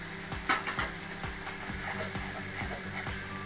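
Onion paste mixed with vinegar and turmeric fries in hot oil for a rohu fish curry, a steady sizzle broken by regular spatula strokes stirring the paste about twice a second, close and moderately quiet.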